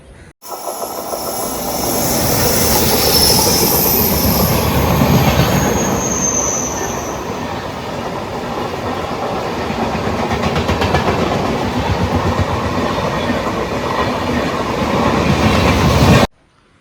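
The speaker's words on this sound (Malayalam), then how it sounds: "മെയിൻ ലൈനിൽ വന്നിട്ട് നമ്മൾ ട്രെയിൻ സ്ലോ ആയിട്ട് ലൂപ്പ് പിടിച്ച് കയറുകയാണ്" A train rumbles along steadily at close range while slowing from the main line onto a loop line at Wadakancheri station, Kerala, a continuous heavy roll with faint clicking wheels and a high squeal of brakes partway through.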